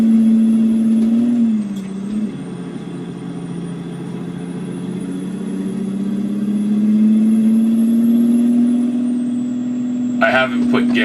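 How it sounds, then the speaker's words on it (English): A loud truck engine runs close by, dropping in pitch at a gear change early on, then rising steadily as it pulls through the next gear, with a brief clatter near the end. "hope you guys can hear it shifting. I know this is a little loud. I'm not used to the sound of this truck, how loud it is"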